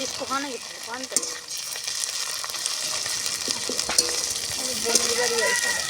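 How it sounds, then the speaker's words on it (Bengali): Chicken with garlic, ginger and cumin paste stirred in a frying pan, a close continuous sizzle with occasional spoon scrapes, and a voice speaking over it. "আদা আর জিরেটাও আমি দিয়ে দিয়েছি এটাকেও ভালো করে মিশিয়ে নিচ্ছি"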